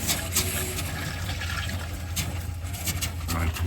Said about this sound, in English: I can see it blowing water out,